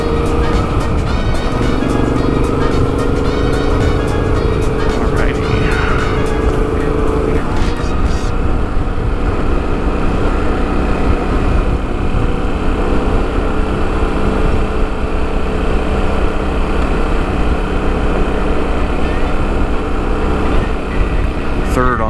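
A motorcycle engine drones steadily and loudly throughout on a backcountry discovery route ride, with wind rush and a constant rumble as it cruises, under occasional talking.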